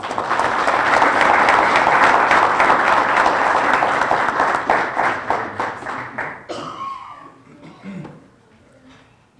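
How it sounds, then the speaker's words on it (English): A room full of people applauds a team of four honorees at a community life saver awards ceremony. The clapping is loud and sustained, then thins into scattered claps and fades out near the end. "I'd just like to give all four of you another round of applause as a team"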